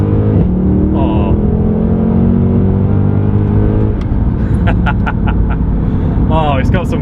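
A Mercedes C63 AMG or BMW M3 with a paddle-shift automatic pulls hard, its engine note climbing through rising revs, then a gearshift and more revving, close up inside the car while people talk over it.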